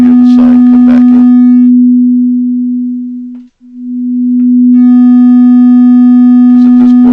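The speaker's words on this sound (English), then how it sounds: "if I move this over, we hear the sine come back in" A pure sine tone in Pure Data hums loud and steady, dips to silence as phase cancellation flattens it, then swells back in and holds, with brief clicky bursts near both ends.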